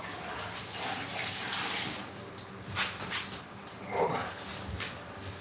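Clean water running into a bucket while grouting a subway-tile shower, a continuous hissing pour with a few splashy surges and small knocks partway through.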